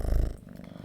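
A cat purrs in a short, low rumbling burst that is loud at first, then eases off and grows softer, with no talking over it.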